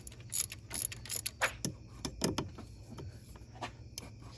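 A ratchet works on the alternator bolts of a 2008 Chevrolet Trailblazer in a series of close, uneven metallic clicks and clunks that come in short bursts, with no one talking.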